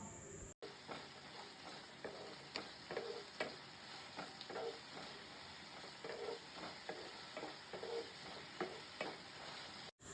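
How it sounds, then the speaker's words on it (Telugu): Cashews and vegetables frying in a pan: a quiet, even sizzle broken by regular stirring strokes that tick and scrape roughly twice a second. "జీడిపప్పు వేసుకుని బాగా వేయించండి"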